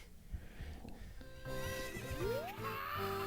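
In the Ocarina of Time video game, a horse gives a loud rising whinny over a low background of game music and hoof sounds, with no talking.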